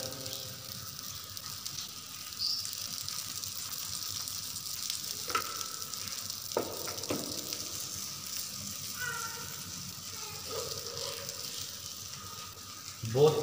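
A paratha fries in ghee on a pan, giving a steady close sizzle with occasional scraping and stirring touches and a brief louder clatter at the end.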